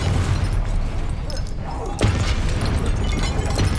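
The Confringo explosion spell goes off in Hogwarts Legacy as one sharp blast, set inside a thick, continuous wash of busy game noise and rumble.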